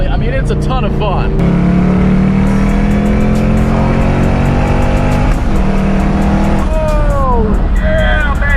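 Ford Mustang GT500 engine revving hard under acceleration, loud and close from inside the car, with supercharger whine and rising and falling engine tones across repeated gear pulls, while a voice talks over it.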